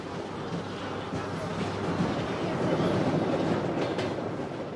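A train running along the Trans-Siberian Railway on the final stretch into Vladivostok, a steady broadband rumble of rolling stock with faint clattering, continuous and fairly close throughout, no talk.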